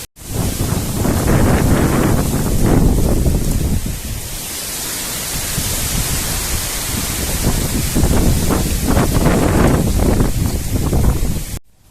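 Strong wind blowing outdoors before rain, a loud, steady roar buffeting the microphone with gusts swelling and easing for the full length, no voices.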